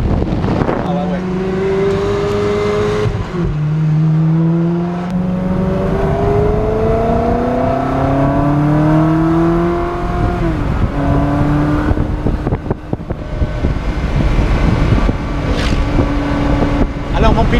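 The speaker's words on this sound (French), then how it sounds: "Nous sommes partis à bord d'une Ferrari, pas des moindres puisqu'elle est décapotable." A convertible Ferrari drives along a road, its engine note rising and falling through gear changes against heavy wind rush, while people talk over the sound throughout.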